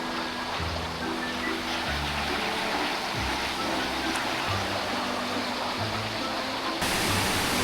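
Mountain valley stream rushing beneath a bridge, a loud continuous broadband roar of flowing water, with faint low tonal rumbles underneath and no speech.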